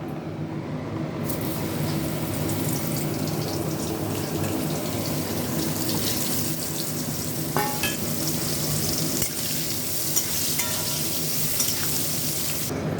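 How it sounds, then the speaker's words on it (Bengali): Mushrooms fry in hot oil in a pan, with a dense, steady sizzle that runs loud and close throughout. A few faint clinks of a stirring utensil sound near the end. "মাশরুমগুলোকে আমি আগে ভেজে নেব।"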